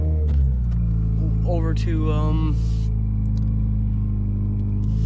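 The engine of a Subaru WRX, dressed as an STI, rumbles steadily from inside the car while driving, a deep drone with a short rising whine as a voice talks briefly over it.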